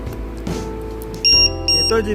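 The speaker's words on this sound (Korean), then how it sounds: "배터리 이제 죽으면 안 되니까 어, 삐삐를 사용하잖아요" A low-voltage alarm on an RC car's lithium battery beeps in two loud, sustained electronic tones, close by, after a short stretch of background noise.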